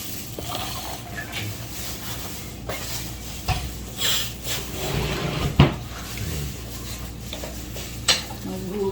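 Dishes and cutlery are handled for washing in a home kitchen, with scattered clinks, scrapes and knocks of plates and utensils over faint background noise.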